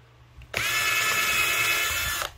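A power drill drives a screw into a picket fence board, one close, steady whine of about two seconds that stops abruptly, with no voices.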